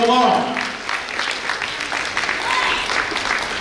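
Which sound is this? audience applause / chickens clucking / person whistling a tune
audience applause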